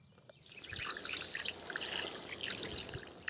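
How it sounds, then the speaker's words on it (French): Watering can fitted with a rose gently sprinkling water over freshly sown bean seeds in a garden; a soft, fine trickle and patter that starts after a short pause and continues steadily at low level, with no voices. "je mettrai la pomme sur l'arrosoir, parce que si on arrose au goulot, là, ça va faire ressortir les graines"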